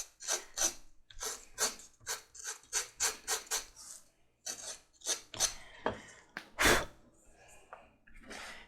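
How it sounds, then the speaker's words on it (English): A knife blade scraping and roughing up a leather surface before gluing, heard as a series of close, rhythmic rasping strokes, about a dozen in quick succession, then a few slower, heavier scrapes. "Just a knife blade will do it. Just scrape it some and rough that surface up"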